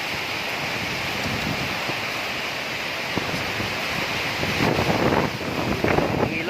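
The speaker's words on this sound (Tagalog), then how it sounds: "So, malakas talaga ang hangin, talagang napakalakas." Strong typhoon wind during Typhoon Odette roars steadily as a broad rushing noise buffeting the microphone, swelling in gusts toward the end.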